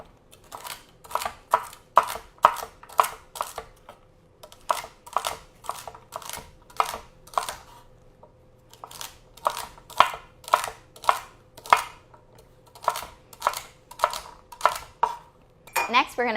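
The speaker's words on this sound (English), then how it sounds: "just give them a nice little chop" A knife chops vegetables on a cutting board in a home kitchen while making beef stew, a long run of quick, crisp taps in steady bursts with short pauses between them, close and clear.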